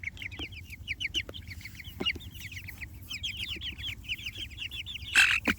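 A small flock of meat chickens clucks busily, with overlapping soft, rapid calls close by, a steady low hum beneath them and a louder squawk near the end.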